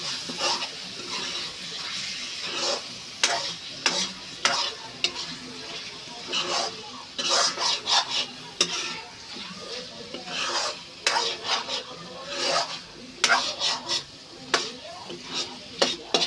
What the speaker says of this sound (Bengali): আবার একটু নেড়ে মিক্সড করে দেবো